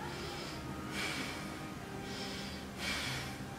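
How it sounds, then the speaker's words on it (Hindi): Slow, deep meditation breathing, with two soft airy swells of breath drawn in and let out, heard close and quiet with no talking. "जब मैं हवा अंदर लेती हूँ और बाहर छोड़ती हूँ तो मुझे आवाज आती है अपनी सांसों की"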